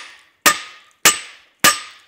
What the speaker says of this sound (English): I'm going to hammer it here because I'm going to draw it out a little bit first